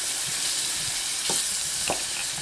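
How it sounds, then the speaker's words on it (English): Zucchini noodles sizzle steadily as they are sauteed in a hot pan, with a constant crackling hiss and a few soft stirring scrapes. "Because it's sizzling and you're sauteing it, you want to keep it moving"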